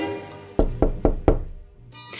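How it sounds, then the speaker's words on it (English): Four sharp knocks land on a bathroom door in quick, even succession, close and loud against a quiet room, followed by a brief pause and faint background sound. "She knocked on the bathroom door."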